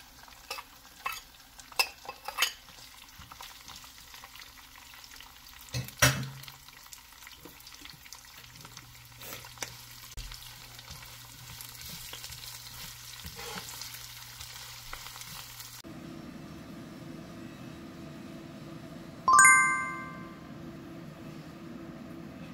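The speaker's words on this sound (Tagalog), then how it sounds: "at isusunod niya yung sibuyas" Onion added to a hot pan and frying for a simple Filipino snack, with steady sizzling and occasional stirring clatter, a brief clink near the end, no talk.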